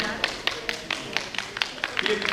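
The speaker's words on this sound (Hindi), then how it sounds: "ये तालियां बजा रहे हैं, स्टूडेंट ही लगते हैं सभी लोग।" Students clapping at a dance competition finale and awards event, a quick series of separate sharp claps at an uneven rhythm with a voice speaking over them.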